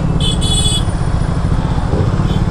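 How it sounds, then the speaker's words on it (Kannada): A Kawasaki ZX-10R motorcycle on a morning ride, its engine droning steadily and loud throughout with a brief higher whine early on, no voices present. "ಬೆಳಗ್ಗೆನೆ ಯಾವುದೋ ಗಾಡಿ ಕಾಣಿಸ್ತೈತಲ್ಲ, ಒಂದು ZX 10R"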